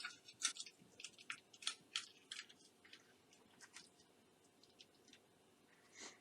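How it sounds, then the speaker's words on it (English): A balloon pulling loose from the dried glue and paper inside a papier-mâché Peter Rabbit piñata, a faint, close series of small crackly pops and sticky ticks spread irregularly over several seconds. "it'll make a lot of weird noise as the balloon pulls away from the glue"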